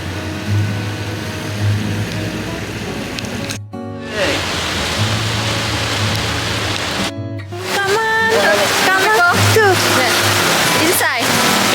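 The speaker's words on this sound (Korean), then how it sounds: "갑자기 비가 엄청 오고 있어요." Heavy, sudden rain pours down on a street in Da Nang, Vietnam, as a loud, continuous hiss broken by a few abrupt cuts, with voices briefly audible over it.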